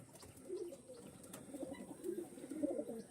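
Pigeons coo in low, soft repeated bursts among a flock of rare pigeons kept for sale, steady murmuring throughout with a few brighter notes rising near the end.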